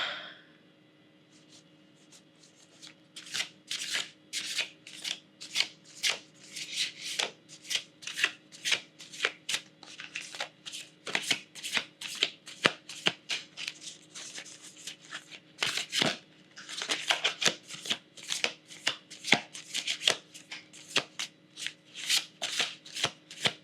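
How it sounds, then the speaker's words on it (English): A Moonology Messages Oracle card deck is shuffled by hand in rapid, rhythmic riffling bursts, close and crisp, continuing for about twenty seconds with no speech. "I want to pull for you one card from the Oracle deck, the Moonology Messages Oracle deck"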